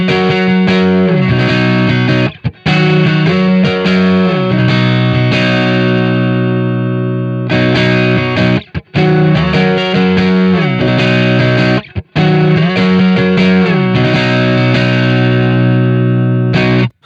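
Electric guitar through a Master Effects JC Pre pedal with the bright control set against the output volume, loud driven chords repeating in phrases with brief gaps, heard alone.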